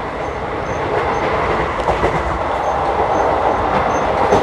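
Upasana Express passenger train rolling along rails in India, a loud steady rumble with rhythmic clickety-clack of wheels from inside a crowded carriage, continuous throughout.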